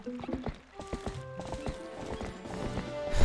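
A horse in the video game Zelda Twilight Princess trots with quick, clear clip-clopping hoofbeats and a short whinny, layered over tonal game music and effects.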